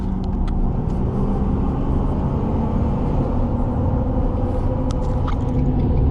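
A Ford F-150 EcoBoost pickup running an MPT 93 PRX tune accelerates on the road. A loud, steady engine and road rumble carries throughout, heard close from inside with no talking.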